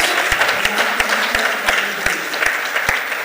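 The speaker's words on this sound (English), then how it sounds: "So a big hand for all of you." An audience at an energy forum at an expo applauds continuously, dense steady clapping from a crowd heard close throughout.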